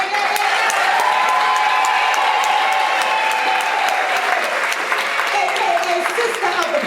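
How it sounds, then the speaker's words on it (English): Sustained audience applause with some cheering fills a live poetry play venue, a dense steady wash of clapping at close range lasting throughout, with voices mixed into the crowd noise. "starting with a big round of applause for our sound engineer"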